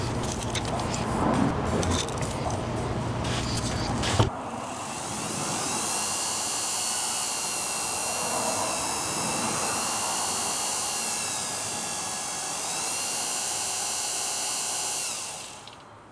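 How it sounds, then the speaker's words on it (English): A brushed electric drive motor on a Quantum 6000z power wheelchair runs rough, giving a steady, fairly loud whine with a harsh, uneven buzz. It spins alone for about eleven seconds after a short burst of clatter and then stops. "Yeah, something going on with that right motor for sure."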